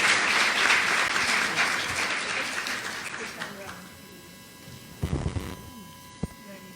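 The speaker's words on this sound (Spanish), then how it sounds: "Un aplauso, por favor." An audience at a conference on older adults and legislation applauds an introduced speaker; dense clapping starts strong, then thins and fades over a few seconds, leaving a low hum and a couple of soft knocks.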